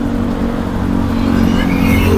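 Massey Ferguson 1552 tractor, made in Japan, with its diesel engine running steadily at close range, a continuous low rumble and hum that swells slightly toward the end.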